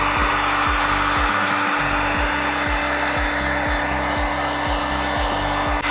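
A heat gun blowing hot air onto STEK sputter window tint film during installation, a loud, steady, close motor whine and airflow hum throughout.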